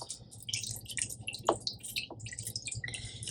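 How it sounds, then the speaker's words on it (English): Water trickling and dripping through a funnel into the water jug of an xTOOL P2 CO2 desktop laser, a faint, uneven stream of splashes and drips with a steady low hum underneath. "if you're pouring water or antifreeze into this water jug, you want to make sure that you're using the funnel"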